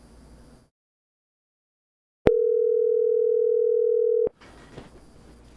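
An unanswered telephone call gives a single steady electronic ringing tone, lasting about two seconds, clear and alone, with near silence before it and faint background noise afterward.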